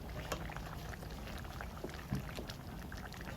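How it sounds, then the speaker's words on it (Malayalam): Bitter melon theeyal curry bubbles in a pot, a soft, steady simmering burble with faint pops and no talk. "അപ്പം നന്നായിട്ട് തിളച്ച് വന്നിട്ടുണ്ട്"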